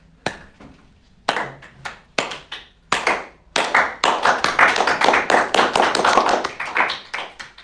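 Students in an algebra class begin a slow clap with a few sharp, widely spaced claps that quicken and thicken into dense, steady applause, close and loud.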